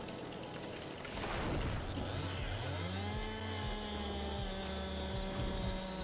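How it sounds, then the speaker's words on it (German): A chainsaw cuts through a tree in Landwirtschafts-Simulator 22, a faint buzzing motor whose pitch steps and slides as it bites into the wood, running steadily for several seconds with no talk. "So habe ich noch nie einen Baum gesägt."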